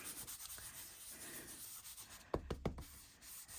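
An embossing buddy pouch rubbed over card before heat embossing, giving a soft, steady brushing hiss, then a few short firmer scuffs near the end.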